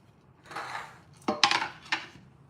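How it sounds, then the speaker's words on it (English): A chopping board is pulled out in a home kitchen, making a soft scraping slide followed by a few sharp knocks and clatters against the counter, close and brief. "that's just me getting my chopping board"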